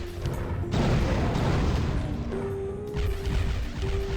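Firestorm weapon blasts in Hexen: Deathkings of the Dark Citadel, played as the Cleric, a loud roaring crash of fiery impact noise that swells and rumbles for several seconds over a faint steady tone.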